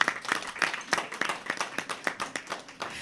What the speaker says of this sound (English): Now you all deserve a round of applause.